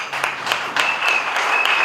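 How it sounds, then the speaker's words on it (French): Brief burst of applause at a wedding ceremony, with a small group clapping close by in quick, uneven claps and a bright tone ringing faintly underneath. "On applaudit."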